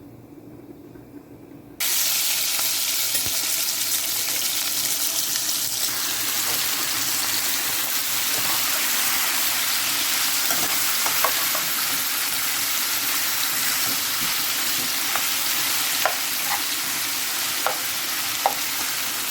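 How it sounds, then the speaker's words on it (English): Food sizzles steadily in a little hot oil in a pot on the stove, a continuous close frying hiss with occasional pops and crackles, heard alone without talk. "Put my pot on the stove and the oil is heated"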